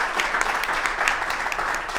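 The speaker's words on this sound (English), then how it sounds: "give Monica a round of applause." A steady wash of audience applause for Monica Santiago, an insurance rep, during a live mortgage-lender Q&A event, continuous and fairly loud with no talk.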